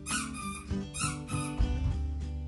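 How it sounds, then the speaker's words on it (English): Golden retriever puppy squeaking a squeaky toy, a rapid run of shrill squeaks close by, tangled with puppy noise and household bustle. "Why is it every time I take a video, somebody finds a squeaky toy?"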